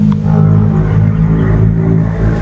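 A motorcycle engine drones steadily at close range, with a low, even rumble and a faint mechanical clatter that holds for a couple of seconds without any voices.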